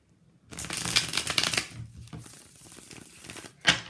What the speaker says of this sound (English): Let me shuffle first.